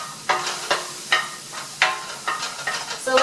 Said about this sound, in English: let your butter melt and your onions get a little bit brown